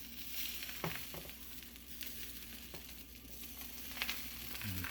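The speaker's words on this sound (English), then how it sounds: "I am slowly pushing the eggs toward the middle so I can tilt the frying pan" Eggs with vegetables sizzle and crackle steadily in a hot frying pan, with occasional scraping of a utensil against the pan.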